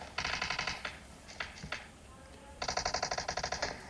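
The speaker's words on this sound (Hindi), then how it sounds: "तो इस साइड से भी यार गोलियां चलने की आवाज़ आ रही थी" Gunfire from PUBG Mobile: a rapid burst of automatic fire, a few scattered single shots, then a second rattling burst. It sounds fairly close and crisp, with no talking.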